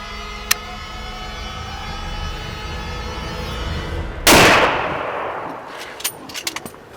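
A single sharp rifle shot fired at a leopard on safari cracks loudly at close range, then a short echoing decay, following a stretch of steady outdoor hum and a faint click; a few small knocks come afterward.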